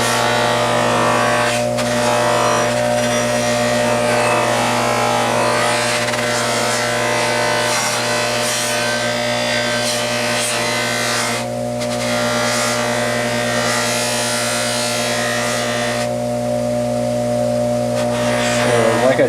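A soft buffing wheel polishes a part from a 1978 Triumph Bonneville motorcycle, a steady loud motor hum with strong tonal harmonics running throughout, with brief scraping changes as the part meets the wheel.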